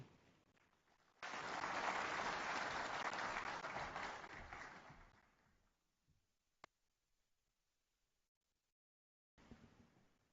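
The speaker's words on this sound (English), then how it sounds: "Another round of applause for Executive Chairman." An audience at an identity-for-development conference applauds the Executive Chairman in a loud burst of clapping that fades after a few seconds into near silence, with one sharp click, before faint clapping resumes at the end.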